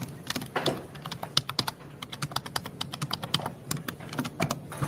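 Rapid typing on a computer keyboard, a dense run of sharp key clicks in uneven bursts, close and clear, with no voices.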